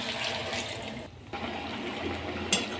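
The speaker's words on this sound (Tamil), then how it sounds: "இப்போ தண்ணி சேர்த்துக்கலாம்." Water poured into a pot of basmati rice and meal maker soya chunks for biryani, a steady rushing pour close up with a short pause partway through.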